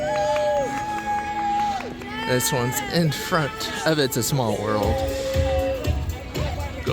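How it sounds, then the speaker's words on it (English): A Mickey Mouse fan club cheering group shouts and whoops for runners along the Disneyland Half Marathon course, lively crowd noise sustained throughout with a person talking over it. "They have a couple of these Mickey Mouse fan club cheering groups along the course."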